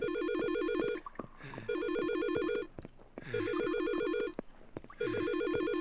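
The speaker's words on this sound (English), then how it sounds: "Ah, phone call." A telephone rings in Silent Hill Shattered Memories, an electronic trilling ringtone repeating in four loud, close bursts separated by brief pauses, with no talk over it.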